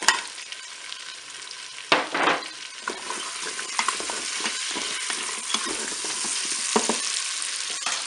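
Carrots tipped into a hot Cookeo pot set off a loud sizzle, then a steady frying hiss continues while a spoon scrapes and stirs at intervals, close up and with no voices.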